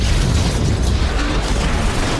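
A film explosion set off near a submarine area: a dense, loud, rumbling blast with roaring low-end noise that stays sustained and unbroken for about two seconds, with no voices.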